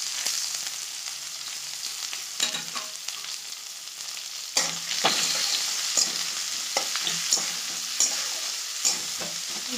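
Chopped onion frying in oil with bay leaf and panch phoron, a steady bright sizzle broken by several scraping stirs of a spatula against the pan, close and continuous with no talking.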